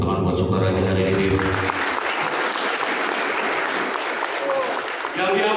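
Seminar audience of hundreds of participants at a motivational event applauding, a sustained loud wash of clapping that follows a voice and runs to the end, with a voice briefly returning at the close.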